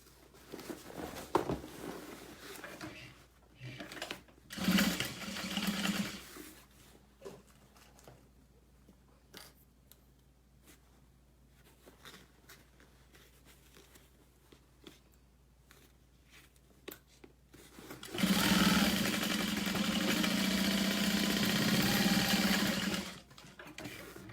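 A sewing machine stitches a vinyl tote pocket closed in two loud bursts, one short and one longer, with quiet handling sounds and rustling between them.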